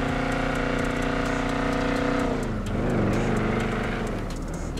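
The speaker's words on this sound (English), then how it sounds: "That motor sound good though." A car engine in GTA 5 drones close and loud, then revs and shifts pitch partway through, its tone rising and falling.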